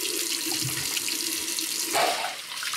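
Tap water runs steadily into a sink while a 1950s Gillette Super 109 safety razor is rinsed during a wet shave, a continuous close hiss that swells briefly near the end.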